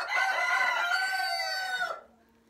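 Chickens and a rooster crowing inside a coop, a loud, continuous chorus of crowing and clucking for about two seconds before it cuts off.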